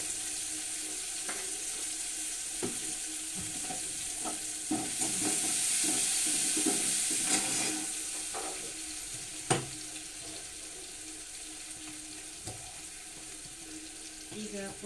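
Mint, turmeric and spices fry in a pan for mint rice with a steady soft sizzle, while a spoon stirs and scrapes in scattered clicks and knocks throughout.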